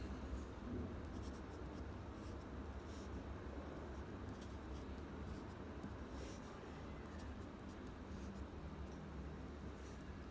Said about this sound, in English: Now you can write 对 like this.